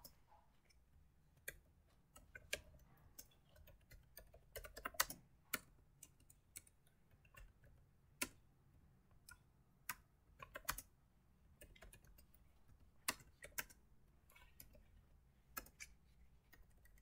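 Code is typed on a computer keyboard as sparse, irregular clicks and taps, some in quick clusters and some isolated, recorded close but faint over a quiet background with no speech.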